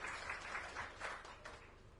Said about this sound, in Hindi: मैं चाहूंगा एक बार जोरदार तालियां दिनेश जी की मौजूदगी के लिए